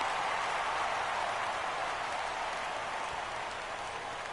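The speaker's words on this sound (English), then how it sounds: "The large capacity crowd is on their feet right now, as Hendricks is ahead of Chipper, 0-2." A large-capacity stadium crowd in the baseball video game MLB The Show 17, during a World Series game, roars in a steady, dense wash of cheering that holds at an even level throughout.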